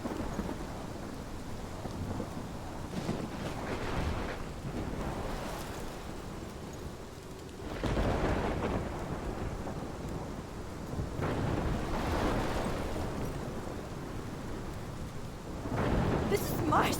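Wind-driven rainstorm with rumbling thunder in the Life Is Strange video game, a steady wash of rain and gusts swelling into several heavy surges, with a low voice talking faintly beneath.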